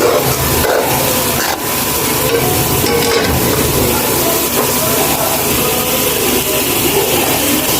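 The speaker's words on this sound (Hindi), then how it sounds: "अब इसमें हम पाउडर मसाले ऐड करेंगे और इसको तब तक भूनेंगे जब तक इसका कच्चापन ना खत्म हो जाए।" Powdered spices sautéing in a pan for a ridge gourd (torai) curry, a steady loud sizzle and frying hiss with occasional scraping stirs throughout, no voices.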